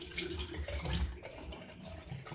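Hot water runs from a tap onto a face during a wet shave, a steady broadband splashing rush close by that fluctuates as the face moves under the stream, with no talking.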